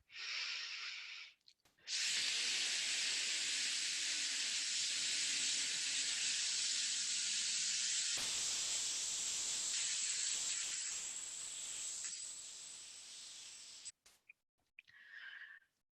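A long, steady breathy hiss from a person imitating a snake, held for over ten seconds after a short breath, then trailing off into quiet breaths.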